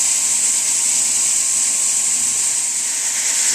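Abrasive sanding tool fitted with a 46 grit belt brushing a metal surface to an antique brushed finish, making a steady, loud, continuous hiss-like grinding with no breaks or talk.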